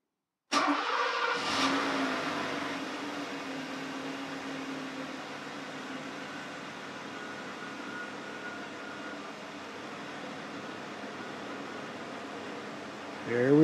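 A Mercedes 560SL engine cranks and catches with a sharp start, then settles into a smooth, steady idle that hums on for several seconds before a brief noise at the end.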